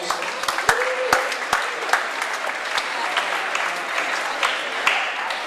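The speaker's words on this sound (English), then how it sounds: "And then a round of applause for Jennifer Smith and Cole." Applause at a new student welcome ceremony, dense crowd clapping that continues evenly throughout, with scattered louder individual claps near the front and a faint voice briefly underneath.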